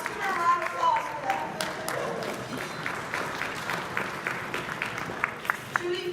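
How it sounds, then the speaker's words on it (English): Applause for Judy Frumkin at a Montgomery County Democratic Party awards celebration, a scattered mid-level clapping from the audience running through the whole stretch with cheering voices and talk mixed in. "let's give her a round of applause for"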